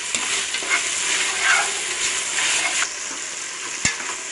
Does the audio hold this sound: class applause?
no